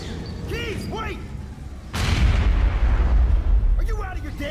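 A grenade blast in the video game Aliens: Colonial Marines erupts as a loud, broad rumbling boom that lingers for a couple of seconds, with voices talking before and after it.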